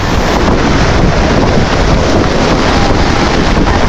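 Loud, roaring wind buffets the microphone continuously, with crashing waves blended into the constant rushing noise, at the shore in Baseco, Manila.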